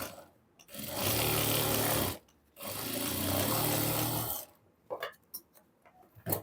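A sewing machine stitches two overlapped ends of elastic together on a readymade palazzo being altered, in two steady whirring runs of about one and a half seconds each, followed by a few brief clicks and handling knocks.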